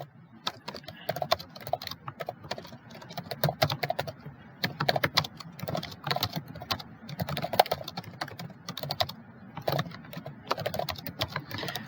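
Someone types on a computer keyboard, a close, busy stream of key clicks in irregular bursts with brief pauses between them.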